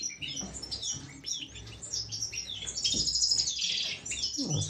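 European goldfinch chicks of a mutation strain chirping while being fed, a dense chorus of high, rapid, insistent begging calls close by and fairly loud, with a rustling scrape near the end.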